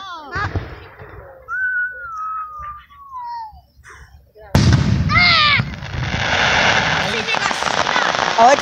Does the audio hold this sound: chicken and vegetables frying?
no